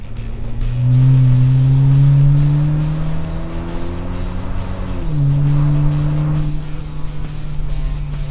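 A 2023 Dodge Hornet with a modified exhaust is driven on a test run, its engine loud and close as it revs up, shifts with a sharp drop around midway, then pulls again.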